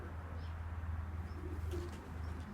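An injured pigeon gives soft, low cooing, a steady murmuring pulse close by and fairly quiet, with no talk over it.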